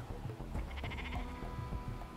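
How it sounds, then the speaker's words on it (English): Sunset cows mooing in the Minecraft video game, several short bleating-like animal calls in quick succession over a steady game background, with no talk. "Can I buy 10 sunset cows from you?"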